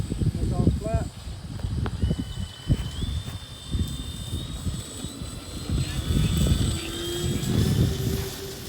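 A FlightLine 1700mm F7F Tigercat RC model plane flies overhead, its electric motors giving a steady, rising and falling whine that is moderately distant, while people talk over it.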